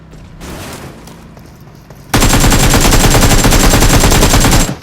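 PUBG Mobile gunfire in a solo-versus-squad match: after some quieter in-game noise, a loud, sustained burst of rapid automatic fire breaks out and runs for nearly three seconds.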